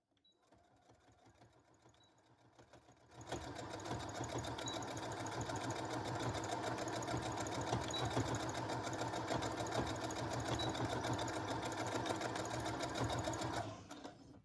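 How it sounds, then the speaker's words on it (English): A sewing machine runs steadily, starting quietly and then stitching loudly and continuously for about ten seconds before stopping near the end. "With our sewing machine, we will go ahead and close that casing."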